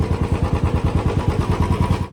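A Royal Enfield Bullet motorcycle, freshly serviced with its earlier tappet noise gone, idles alone at close range with a steady, even thumping beat that fades out at the very end.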